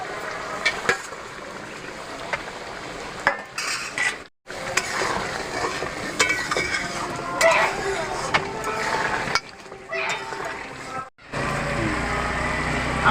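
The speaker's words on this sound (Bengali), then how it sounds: "আমি এবার এর মধ্যে ভেজে রাখা পনিরগুলো দিয়ে দেবো।" A spoon or ladle stirs fried paneer into simmering chana masala in a pot, with repeated scraping and clattering strokes up close, broken by brief pauses and faint sizzling.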